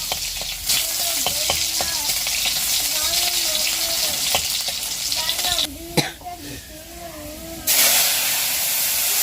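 Dal poured into a pan of onion and panch phoron tempering, with loud hissing and sizzling that surges and drops sharply, plus a few utensil knocks and a voice speaking intermittently.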